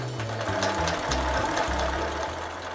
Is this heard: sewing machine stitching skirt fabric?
yes